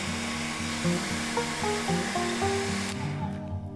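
A hair dryer blows steadily over a watercolor pencil drawing of a flower field, a loud, even whoosh that cuts off near the end, leaving quiet background music.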